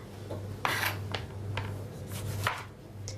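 Knife strokes cutting potatoes in a kitchen, a few separate sharp chops and scrapes spaced irregularly, close and moderately loud over a steady low hum, with no talking.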